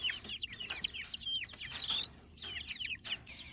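Backyard chickens, one of them a frizzle with curled feathers, clucking outdoors in repeated short bursts of chatter, close and lively, with no talking.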